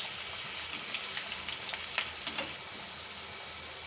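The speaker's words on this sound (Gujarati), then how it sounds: "બટેટાને આપણે ઘડીક વાર તેલમાં સડવા દેવાના છે ફ્રાય કરવાના છે" Potatoes frying in hot oil in a home kitchen, a steady close sizzle with scattered crackles and pops, alone without talk.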